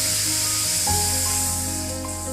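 Tomato paste hits a hot pan for a vegetarian matar paneer, setting off a sudden loud hiss and sizzle that stays strong and slowly fades over about two seconds.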